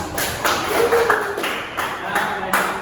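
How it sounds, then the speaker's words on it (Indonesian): Scattered clapping from a small classroom group at a microteaching session, a few irregular claps with quieter talk mixed in over about three seconds. "Tepuk tangan."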